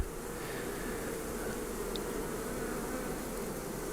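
Steady, dense buzzing of many honey bees around a hive, a continuous drone with no pauses and no voices.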